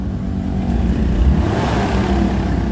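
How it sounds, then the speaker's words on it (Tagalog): The gasoline engine of a Mitsubishi Adventure revs steadily nearby, a loud, low droning hum with a mild swell in the middle that holds at a steady pitch. "kapag gasoline engine at ginalit nyo yung makina, ayaw talagang pumalo"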